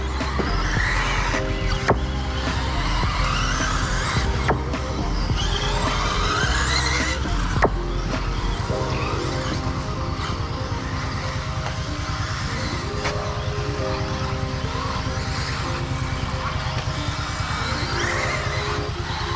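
Radio-controlled cars race in a trophy race at the Proximity RC track, a continuous whine of small electric motors with repeated tire squeals and skids, loud and steady throughout.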